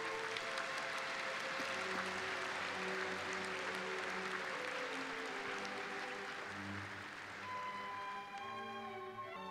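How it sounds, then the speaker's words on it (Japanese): Sustained applause fills a large hall at a Kanagawa University graduation and degree ceremony, a dense, steady clapping from the assembled audience that holds at even loudness throughout, with faint tonal music or hum beneath and no talk. "会場の皆様盛大な拍手をお願いいたします"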